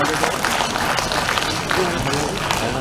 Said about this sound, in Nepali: अलिक जोरदार तालीले उहाँहरूलाई स्वागत पनि गरौँ।